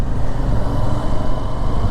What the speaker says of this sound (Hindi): यहाँ तो थोड़ा बहुत ट्रैफिक है क्योंकि लोग चंबा डलहौजी जाते हैं घूमने